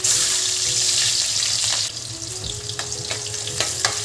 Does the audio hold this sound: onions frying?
yes